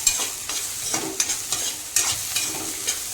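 Bitter gourd stir-fries in a spoonful of oil, the pan sizzling softly while a spoon scrapes and stirs in repeated close strokes.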